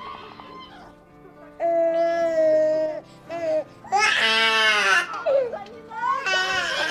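A baby wails loudly in repeated rising cries within a film scene, with breathy pauses between sobs and softer whimpers before the cries build.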